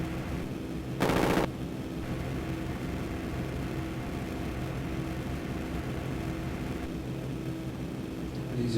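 A short, loud burst of machine gun fire in a B-17 Flying Fortress flight combat game on an A500 Mini, standing out for under half a second above a steady, continuous droning of aircraft engines.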